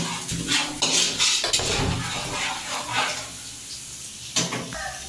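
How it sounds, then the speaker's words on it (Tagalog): Sautéing in a pan for pancit canton at a home birthday celebration, with clattering of a metal utensil against the pan, scraping and stirring knocks in irregular bursts over a soft background. "Si Tia Matot po naman dito ay nagigisa na. At siya po ay magluluto ng pansit canton."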